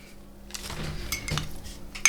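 A spoon stirs gelatin into about 150 grams of broth in a bowl, making soft scraping sounds and a few light clinks against the sides. The sounds are quiet and close.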